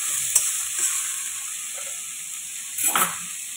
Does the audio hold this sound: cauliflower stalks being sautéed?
yes